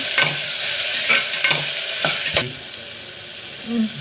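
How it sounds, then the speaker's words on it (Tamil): Tomatoes sautéing with onions in a pan for vegetable rice, a steady frying sizzle broken by several sharp spatula scrapes and stirring knocks, close and fairly loud with no talking. "தக்காளி ஆட் பண்ணி அதையும் வந்து கொஞ்சம் நல்லா வதக்கிப்போம்"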